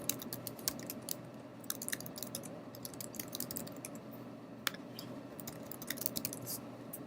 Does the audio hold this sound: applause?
no